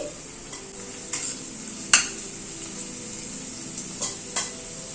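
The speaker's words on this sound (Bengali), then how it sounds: "পেঁয়াজটাকে একটু হালকা করে ভেজে নিয়ে ওয়ান টিএসপি রসুন কুচি দিয়ে দিলাম" Onion and chopped garlic frying in a pan, a soft steady sizzle under several sharp metallic spoon taps and scrapes against the pan, quiet and close.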